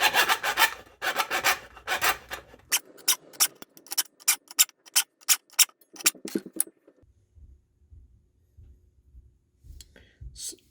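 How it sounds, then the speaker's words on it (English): Hacksaw cutting through a plastic Honda car key fob shell, first in fast scraping strokes, then slower distinct rasping strokes in a steady rhythm, close and fairly loud, before falling quiet. "I'm just gonna use a hacksaw to saw this one off"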